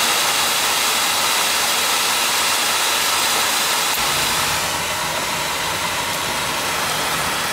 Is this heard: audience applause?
no